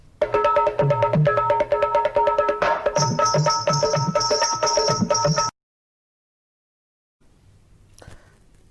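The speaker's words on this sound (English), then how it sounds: "While a Keherva would sound something like this." Hand percussion plays a brisk, even Keherva rhythm cycle of Indian music under a bright melodic line, ending abruptly, followed by silence and faint noise.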